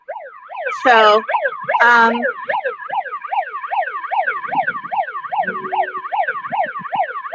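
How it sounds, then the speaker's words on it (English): A wailing emergency siren cycles steadily up and down throughout an outdoor free speech event, loud and continuous, with a person speaking briefly over it near the start. "I don't know if you can hear the siren sound in the background"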